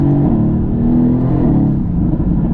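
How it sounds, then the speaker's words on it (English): A Mercedes-AMG GT S engine revs hard and loud, a steady, heavy rumble that shifts in pitch as the car downshifts, up close and with no one talking over it. "The downshifts are super loud"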